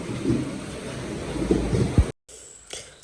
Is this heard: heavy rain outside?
yes